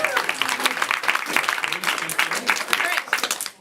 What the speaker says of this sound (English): Clap for yourselves for all this.